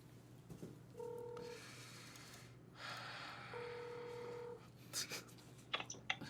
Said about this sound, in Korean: 제가 전화를 드리도록 하겠습니다